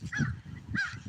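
A crow gives two harsh caws about half a second apart, close and moderately loud over quiet low background noise.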